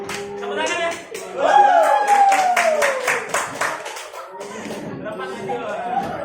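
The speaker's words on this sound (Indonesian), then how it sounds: "Tepuk tangan ya." Students in a classroom clap their hands, a short burst of clapping mixed with chatter, tonal sounds and laughter, with voices continuing around it.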